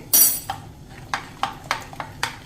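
A spoon stirs fasting-style farali batter with a little rock salt in a bowl. It makes half a dozen sharp, evenly spaced clinks against the bowl, close and fairly clear over a quiet background.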